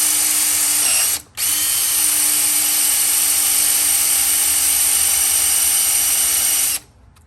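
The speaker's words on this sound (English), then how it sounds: "the general idea is to get a hole right down this bolt." A power drill boring a hole down into a bolt on a crash-damaged Cummins NTC-365 Big Cam diesel engine, a loud, steady high-pitched whine that cuts out briefly near the start, then runs continuously before stopping.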